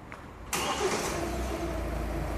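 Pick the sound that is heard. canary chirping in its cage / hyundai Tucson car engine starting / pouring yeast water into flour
hyundai Tucson car engine starting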